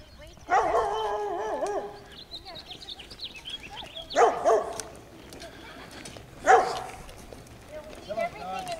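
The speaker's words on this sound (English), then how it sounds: "Here comes a doggy." A small dog yips and barks in three short bursts, spaced apart, with people talking nearby.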